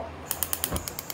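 A gas stove igniter ticks in a quick, even series of sharp clicks, about nine in a second, close by in a quiet kitchen.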